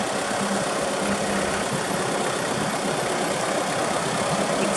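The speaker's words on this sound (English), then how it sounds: "Exciting tractor movement." Tractor engine idling steadily at close range while the tractor moves to load big logs, a continuous rumbling drone with no talk.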